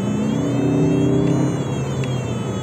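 A gas car's engine rises in a steady revving hum with a low rumble and faint whir as it accelerates, heard close and continuous with no talking.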